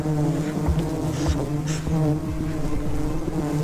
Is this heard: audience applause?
no